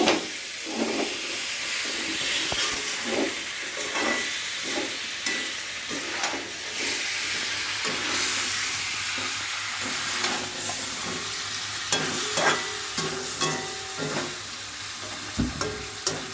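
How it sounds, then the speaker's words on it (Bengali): Whole dried red chillies and spices fry in a pan for chicken curry with panch phoron, a steady close sizzle broken by repeated scraping stirs, with no talk. "এটাকে সুন্দর করে একটু ভাজা ভাজা করে কষাবো।"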